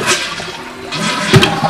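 An American Standard Cadet 3 dual flush toilet flushes with a loud, close whoosh of rushing water that swirls and gurgles briefly.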